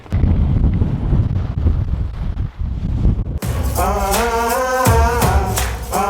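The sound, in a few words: strong wind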